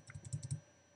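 Bracket keys on a computer keyboard are tapped during Photoshop work, six quick close-up clicks in a fast cluster that then give way to quiet.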